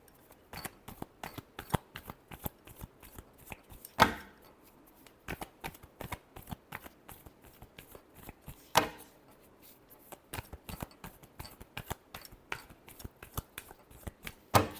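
A deck of tarot cards is shuffled by hand, a steady run of crisp, close riffling and slapping clicks with a few louder snaps, heard alone without any talking.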